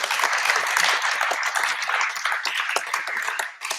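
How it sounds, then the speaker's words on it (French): An audience at a French conference on networks and fibre-optic connection claps for a departing speaker, a fairly close, busy round of applause lasting a few seconds with no talk over it. "on vous applaudit."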